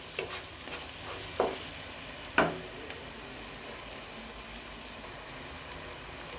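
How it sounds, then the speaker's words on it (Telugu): Spices with coriander powder frying in a pan give a faint, steady sizzle with a few sharp spatula scrapes early on, heard close and quiet without any voices. "ఒక 2 మినిట్స్ బాగా ఫ్రై అనేది చేసుకోండి."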